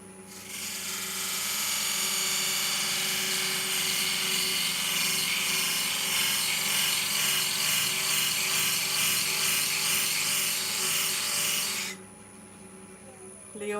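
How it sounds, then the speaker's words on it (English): A wood lathe turning a piece while a beading tool cuts beads into it, giving a loud, steady, high rasping hiss that holds for about twelve seconds and then stops abruptly, with the motor hum continuing beneath. "on this I'm using a beading tool now, which is just a nice simple way to form in beads."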